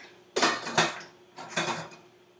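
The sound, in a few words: lid put on a cooking pot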